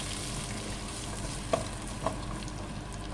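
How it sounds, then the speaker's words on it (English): Onion sautéing in a pan for a spinach sambar gives a steady, moderate frying hiss throughout, with two brief sharper clicks partway through and no talking. "Saute it."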